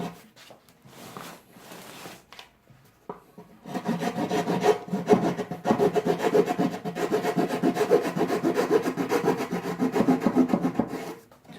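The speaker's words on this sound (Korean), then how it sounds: "자, 이렇게 쇠톱 날로 잘 잘려요" A hacksaw blade cuts through gypsum board during a drywall wall repair, a short scrape at the start, then a quiet pause, then a fast, rhythmic back-and-forth rasping of sawing strokes that runs close and steady to the end.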